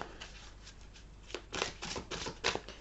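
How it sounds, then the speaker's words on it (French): Oracle cards being shuffled by hand, a soft run of papery riffles and slaps that grows denser and louder toward the end, close and alone with no talking. "je brasse les cartes"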